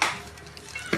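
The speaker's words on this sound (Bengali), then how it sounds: "মাংস কষানো প্রক্রিয়া" Meat being stirred and fried in a pan during kosha cooking, a busy sizzle with scraping stirs and a sharp clatter near the end, loud and close with no talking.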